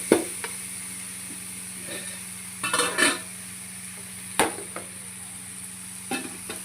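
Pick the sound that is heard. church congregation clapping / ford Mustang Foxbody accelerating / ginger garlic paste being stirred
ginger garlic paste being stirred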